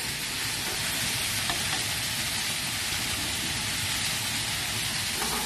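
Chicken pieces fry in a pan with a loud, steady sizzle and crackle filling the whole stretch, a faint clink or two as the pieces are turned, no voices.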